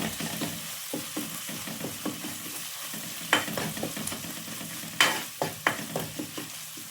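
Clams are stir-fried in a hot pan with chili paste, sizzling quietly under repeated scrapes and clacks of a spatula against the pan, with a few louder metallic knocks, close up and without talk.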